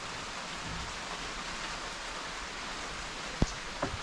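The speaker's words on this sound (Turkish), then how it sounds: "Tayland'da her zamanki gibi yağmur yağıyor. Tropik yağmur." Tropical rain falls in Thailand beside a balcony, a soft, even, distant hiss with a couple of sharp drip taps near the end.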